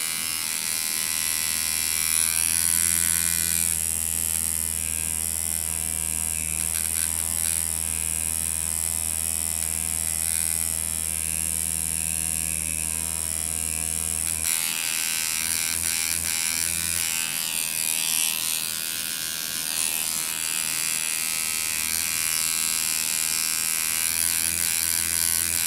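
A tattoo machine buzzes steadily with an electric hum while its needle is set, close and continuous for the whole stretch, its tone shifting partway through.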